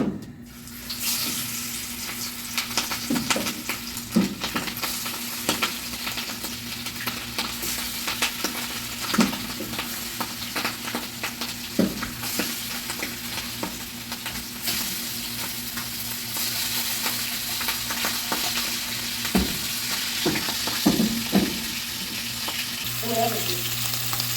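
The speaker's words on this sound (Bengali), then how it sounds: "আসুন মাছটা ভেজে নিই" Hilsa fish frying in a pan makes a constant bright sizzle with soft scattered clatters and stirring taps, close and steady throughout the clip.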